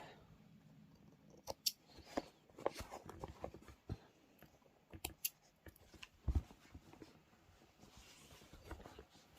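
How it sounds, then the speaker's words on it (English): Scissors trimming sewing threads on a quilted fabric tray: quiet, close, irregular snips and clicks scattered across a soft background, with no talk. "I'm just going to trim the threads off."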